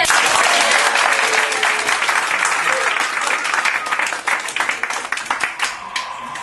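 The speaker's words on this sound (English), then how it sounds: "So if you would, another completely spontaneous but genuine, heartfelt round of applause for Jonathan Luskin." A theater audience applauds a playwright in a long, dense round of clapping that stays steady and loud, then thins toward the end into scattered, more distinct claps.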